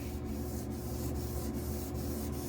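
Steady abrasive rubbing of an Intel 13900K CPU die being lapped flat, a continuous close scraping hiss with faint regular strokes roughly every half second, no voices.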